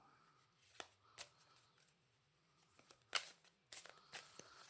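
A deck of exploration cards for the Dungeon Saga Origins board game is shuffled by hand, heard as scattered soft riffles and several sharper card slaps in a quiet room.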